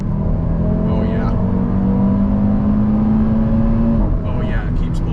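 An 8Y Audi RS3 accelerates hard, its engine note holding and climbing steadily as it keeps pulling before easing off near the end, heard from inside the cabin with people talking over it.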